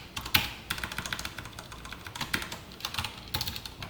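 Quiet, fast keystrokes on a computer keyboard while coding in JavaScript, irregular clicks and taps in short bursts, close and fairly soft, with no one speaking.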